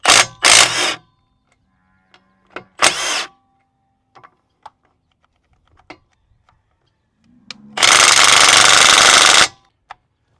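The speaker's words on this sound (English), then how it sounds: "Impact rated on this impact wrench. I'm gonna try and loosen these up before we jack it up." A Milwaukee 2562-20 stubby impact wrench loosens wheel nuts on a car in short, loud, hammering bursts, several brief blasts followed by one longer sustained rattle, with ratchety clicks and quiet gaps between.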